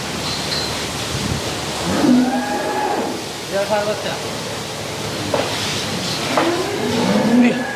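A high-yielding Friesian dairy cow moos several times at close range, long low calls spaced across the stretch over steady background noise, with people talking nearby.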